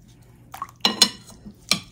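Pieces of chicken adobo being turned over in a pan, a few close metallic clanks and scrapes of a utensil against the pan in an otherwise quiet moment.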